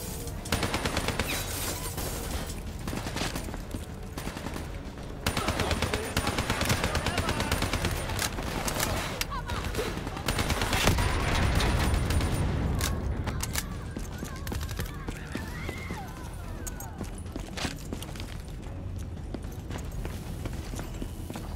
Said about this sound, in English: They hit that corner and instantly just started shooting right at me,